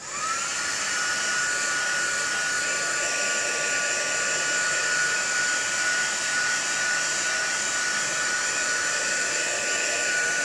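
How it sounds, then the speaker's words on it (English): A heat gun blows steadily for about ten seconds to heat-set shimmer embossing paste on a handmade card, a constant close whooshing roar with a high whine that starts abruptly and runs alone. "I'm going to heat set it."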